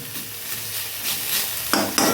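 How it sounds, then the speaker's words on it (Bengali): Gima greens frying in hot oil in a pan, a steady close sizzle with a few louder stirring scrapes near the end, no voices. "বন্ধুরা দেখুন শাকটা এইভাবে ভেজে নিলাম আমি"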